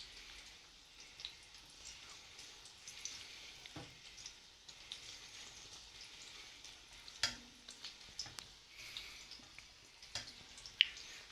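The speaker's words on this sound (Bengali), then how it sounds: "একদম লো ফ্লেমে ভাজবো" Quiet, gentle sizzling of chicken pakoras frying over low heat, with faint crackles and an occasional small tap or clink.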